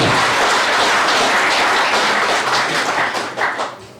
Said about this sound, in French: Applaudissons-les également,